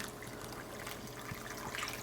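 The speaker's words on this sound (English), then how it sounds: "Oh, and I did have the rest of my water that I could add too." Water being poured into a pot of chicken soup, a soft steady trickling and splashing that stays faint and continuous with no talking.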